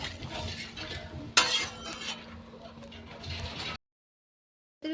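Katla fish curry is stirred after hot water is poured in, soft scraping and liquid sloshing in a pot with a sharp clink partway through, quiet and brief before cutting to silence.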